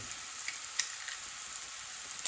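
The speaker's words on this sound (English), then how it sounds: "Now we will also add the garlic." Garlic frying in a pan for a Polish zapiekanka street-food topping, a steady soft sizzle alone throughout, with a couple of faint clicks.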